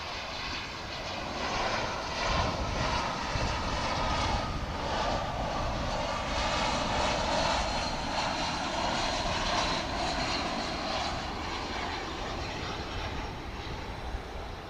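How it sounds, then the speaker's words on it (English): An American Airlines A319 arriving from Monterrey lands at Dallas Fort Worth airport, its engine roar broad and steady throughout, close and loud with a faint rising and falling hum. "This is American Flight 2429 landing from Monterrey in Mexico"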